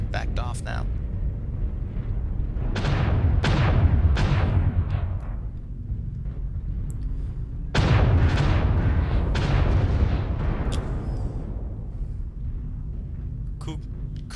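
Heavy artillery strike explosions in a mech combat video game, with booming blasts landing in two clustered volleys that ring out and decay over a low rumble while a commentator talks throughout.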